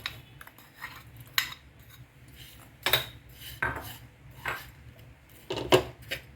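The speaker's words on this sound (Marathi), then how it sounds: "आता हा गूळ आपण विरघळवून घेणार आहोत" Jaggery melting in a pan for tambittu laddus, with scattered metallic clinks and scrapes of a spoon against the pan at an unhurried pace.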